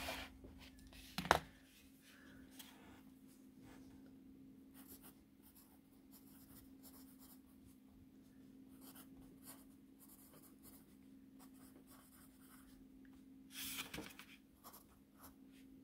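A Zebra Z-Grip Plus mechanical pencil writes on paper with faint, close scratching strokes over a steady low hum, with a couple of brief louder taps.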